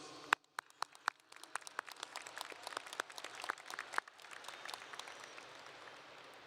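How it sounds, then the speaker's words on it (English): An audience at a Bowie High School graduation ceremony applauds the students. Scattered, distinct claps start quietly and then thicken into fuller, uneven applause with a roomy, distant quality. "I would like us all to give a round of applause to these students."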